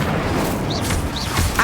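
Incendio fire spell cast in Hogwarts Legacy, a brief magical burst with swooping whooshes and a low rumble, short and fairly loud.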